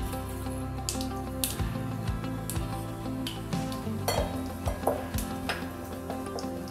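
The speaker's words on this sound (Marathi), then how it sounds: "आता आपण एका कढईमध्ये तेल गरम करायचं आहे आणि त्याच्यात फोडणी करायची आपल्याला. पहिले सर्वात मोहरी" Mustard seeds sizzling and popping in hot oil in a kadhai for tempering, with a steady low hum, scattered crackles and clinks of a utensil against the pan, and no speech.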